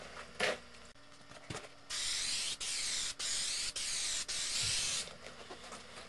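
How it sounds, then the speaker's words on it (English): Four sustained bursts of 3M 77 spray adhesive hiss onto foam, loud and close, each separated by a brief pause, with faint handling noises before and after. "I'm going to put some 3M77 on it"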